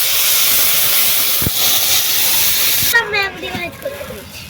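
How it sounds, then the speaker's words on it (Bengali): Water poured into mung dal frying in oil in a village kitchen gives a loud, steady steam hiss for about three seconds, then breaks into bubbling and spluttering as it settles. "মুগের ডাল হালকা করে তেলের মধ্যে মেরে ভেজে নিয়েছি এবারে জল দিয়ে দিচ্ছি"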